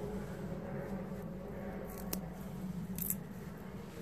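A frozen, still-crisp potato peel snapped by hand in a small worm bin gives a few sharp, crisp cracks over a low, steady background hum.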